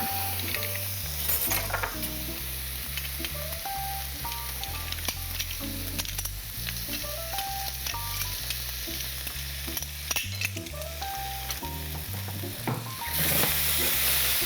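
Garlicky orange-juice salmon sauce sizzles steadily in the salmon pan as it is stirred, a close, continuous frying hiss with soft scraping under background music.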